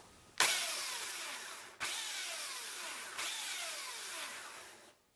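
A belt sander works a mirror frame edge in three short pulses, each starting with a sharp whirring rise that slowly winds down, close and fairly loud with brief gaps between.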